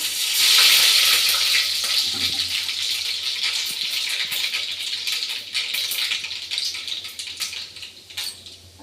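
Mustard seeds dropped into hot oil, a burst of loud hissing sizzle that settles into a steady crackle with sharp popping spatters, close up and without speech.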